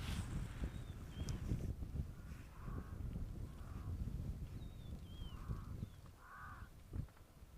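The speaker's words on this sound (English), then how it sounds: "I can hear some crows that are squawking near me here." Crows caw several times, faint and somewhat distant, over a low rumbling outdoor background in a nature setting where jackals are being watched, with thin chirps from other birds scattered between the calls.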